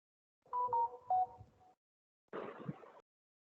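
Telephone keypad tones beep in a quick series of short pitched presses, then a brief burst of harsher noise follows after a pause, all fairly faint and with no voices.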